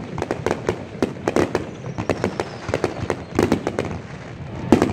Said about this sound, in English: Big old fireworks show out here at I-75.